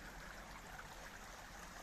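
A small stream flowing through spruce and fir woodland, fed by water from a mine, giving a steady, faint wash of trickling water with no voices.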